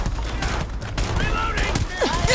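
Gunfire crackles through a Starfield shootout in short bursts and scattered single shots, layered over game ambience and faint whooshing effects.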